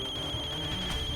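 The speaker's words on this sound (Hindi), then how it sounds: "फोन भी आ गया मंदिरा मैम का" A mobile phone rings during a TV drama scene, giving a steady, high electronic ringtone that holds evenly and fairly softly throughout, with no voices over it.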